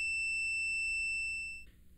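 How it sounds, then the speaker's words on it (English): A Dawson DSM101N digital multimeter's continuity buzzer gives a steady, piercing electronic beep for about a second and a half, then cuts off abruptly, leaving faint low background noise. "If the meter measures a resistance of less than 50 ohms, the meter's buzzer will sound."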